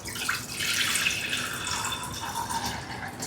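Water poured into soaked lentils in a stone pot, a continuous close splashing pour with bubbly gurgle that eases slightly toward the end.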